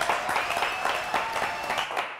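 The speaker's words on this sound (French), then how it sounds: "Applaudissements s'il vous plaît." A studio audience applauds at the end of a French radio show, a dense patter of many hands clapping steadily throughout, fairly close and even in level.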